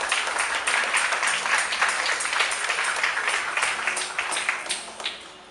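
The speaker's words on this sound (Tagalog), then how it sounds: "Hina ng palakpak natin kay Lord." A church congregation claps in sustained applause, a loud continuous patter of many hands that thins and fades near the end.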